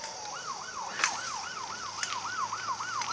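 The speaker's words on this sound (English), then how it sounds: "It's another goddamn siren." Wailing emergency vehicle siren in a town at night, a steady rising-and-falling electronic tone repeating about every quarter second, moderately loud and unaccompanied by speech, with brief sharp clicks at two points.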